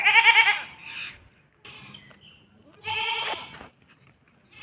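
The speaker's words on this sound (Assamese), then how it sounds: "ছাগলীটো আমাৰ ঘৰলৈ আহিছে" A goat, wandered in and being rescued, bleats twice, loud and close, each call a wavering nasal cry separated by a quiet pause with faint background rustling.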